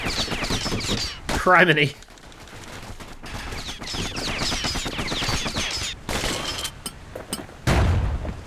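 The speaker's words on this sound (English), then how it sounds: "Good thing pin cushions can't see where they're shooting." Pincushion enemies in the video game Bastion fire rapid bursts of gunshot-like shots and booms, loud and close, with a player's voice talking briefly between the volleys.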